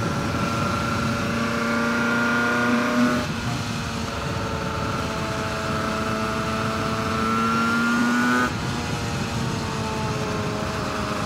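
A Suzuki RG500 two-stroke racing motorcycle from the 1976 era, ridden on track with right-hand gear shift, its engine note droning steadily with rising and falling pitch and shifts around three and eight seconds.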